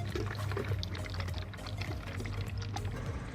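A bottle of Rislone liquid aluminum stop leak is shaken hard, making a continuous, close sloshing and gurgling of thick liquid for a few seconds, with no speech.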